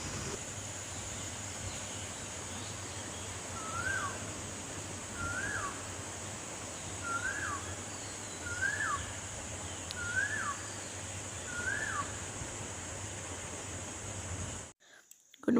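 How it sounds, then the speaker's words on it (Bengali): A koel calling at dawn at about 4:30, six evenly spaced rising whistled notes over a steady hum of background noise, moderately near, with a handling thump at the very end. "তোমরা কোকিলের ডাক শোনো।"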